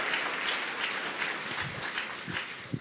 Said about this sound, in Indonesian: Luar biasa, kita berikan aplaus untuk yang hadir semua.